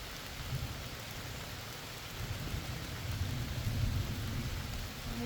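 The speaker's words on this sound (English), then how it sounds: "get out of the rain" Steady rain falls outdoors during a day hike, a dense hiss of drops on surfaces with low rumbles underneath, swelling slightly toward the end, with no voices.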